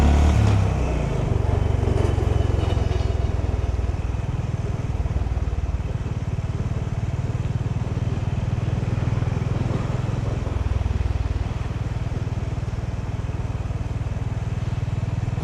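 A motorcycle rides along roads in Kagoshima, Japan, its engine droning low and steady throughout with rushing wind noise close by and no talk.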